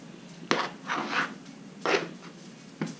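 A knife chops through potatoes on a cutting board, with a few sharp knocks and scraping strokes spaced irregularly, close by and fairly quiet.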